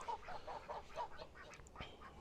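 A flock of ducks quacking repeatedly with geese honking among them in a free-range run on a hot day, a busy overlapping chorus at moderate distance with no talking.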